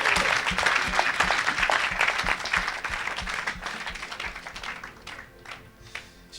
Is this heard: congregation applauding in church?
yes